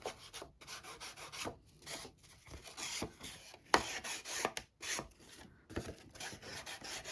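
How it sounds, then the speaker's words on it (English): Nail file rasping back and forth against the edge of a handmade paper shopping-list folio, quick rhythmic strokes with brief pauses, close and fairly quiet, no talking. "You can use a nail file,"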